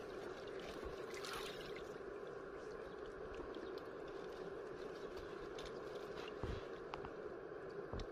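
A boat passes on the water in a rural setting while fish are lifted out with a net, giving a steady motor drone and a wash of water, mostly even in level with a few splashes.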